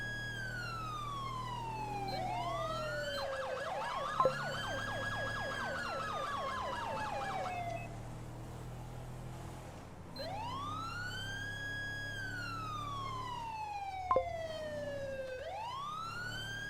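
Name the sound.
emergency vehicle siren in video game FiveM (GTA V)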